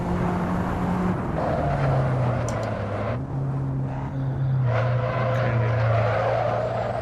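A race car lapping in a VR racing game, its engine a loud, continuous drone that steps up and down in pitch through gear changes and corners, with no one talking.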